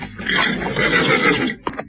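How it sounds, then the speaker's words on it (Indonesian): A horse neighs in fear, one loud, close, quavering whinny lasting over a second, followed by a couple of short snorting bursts. "tiba-tiba saja kuda itu meringkik ketakutan"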